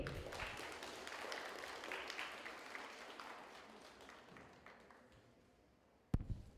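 Spectators at a gymnastics award ceremony for junior group-exercise gymnasts give dense, sustained applause that gradually fades away, ending with one sharp knock near the end.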